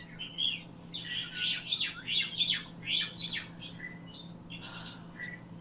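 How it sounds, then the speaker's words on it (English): Small birds chirp and tweet in the background indoors, a busy run of bright, overlapping calls at moderate loudness over a steady low hum, with no speech. "What are these birds in the background?"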